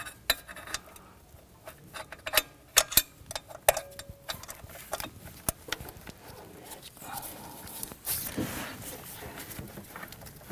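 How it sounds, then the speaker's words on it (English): A gear wrench ratchets while snugging a thermostat housing bolt on a 2011-2015 Kia Sorento, giving irregular sharp close clicks and ticks with brief pauses and some clanking of metal. "I'm going to reach in there with my gear wrench and snug that down"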